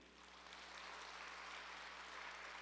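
A church congregation at a Sunday worship service applauds hesitantly, giving steady, soft, diffuse clapping that swells slightly at the start and then holds evenly over a low hum.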